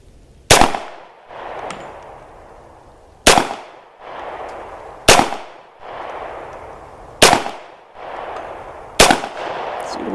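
Five loud, sharp pistol shots from a Rock Island 1911 chambered in 10mm, spaced about two seconds apart, each with a ringing outdoor echo trailing off between shots.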